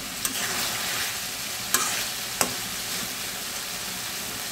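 Fish and potato curry sautés in a pan with a continuous low sizzle and frying crackle, punctuated by a few sharp scrapes and clinks of a spoon stirring, close and moderately loud.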